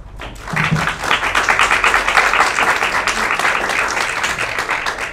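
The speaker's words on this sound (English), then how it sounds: "give her a round of applause" Loud, sustained applause from a conference audience, dense clapping that holds steady for several seconds.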